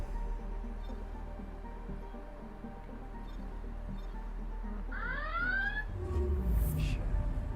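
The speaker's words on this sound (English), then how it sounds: "Goddamn alarm." An alarm goes off in Mass Effect: Andromeda, a faint electronic chirping that rises into a few repeated warbling tones near the end over a low ambient game rumble.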